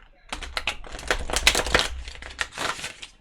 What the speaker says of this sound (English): Okay, that was a little better to shuffle.